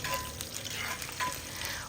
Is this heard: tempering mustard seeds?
yes